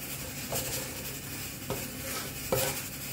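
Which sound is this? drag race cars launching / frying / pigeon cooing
frying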